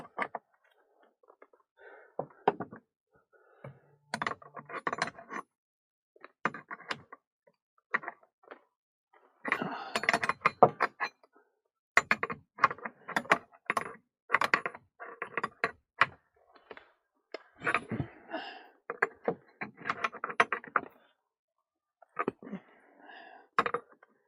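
Intermittent metallic clicks, ratchets and scrapes as a gas engineer tightens a pipe fitting with a tool, short bursts of close, quiet mechanical noise separated by silences, with no talking.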